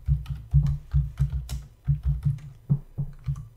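Typing on a computer keyboard, close up: a quick uneven run of about a dozen distinct key taps with short pauses, alone without talk.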